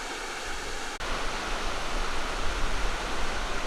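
City Lake Falls in Cookeville after rain, a steady, full roar of falling water with broadband rushing and a deep low rumble, continuous and close, briefly dipping once near the start.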